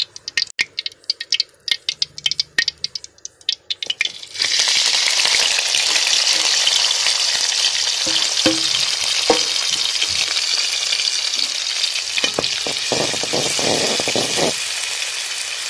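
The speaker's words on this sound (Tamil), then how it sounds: "எண்ணெய் நல்லா காஞ்சதும் நம்ம பொடி பொடியாக நறுக்கி வச்ச வெங்காயம், தக்காளி, கருவேப்பிலை இதெல்லாம் போட்டுருங்க." Chopped onion, tomato and curry leaves hit hot oil for an egg parotta, starting a loud, steady sizzle that runs to the end with occasional stirring rattles. A few sharp clatters come before it.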